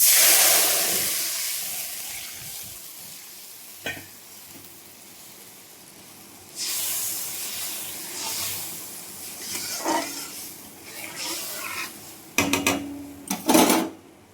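Thick gram flour water is poured into a hot pan of vegetarian curry, setting off a sudden loud hiss and sizzle that fades and then flares up again in bursts.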